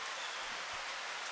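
Steady rain falls in the afternoon, a continuous soft hiss of drops with no distinct gaps, fairly faint and unbroken throughout.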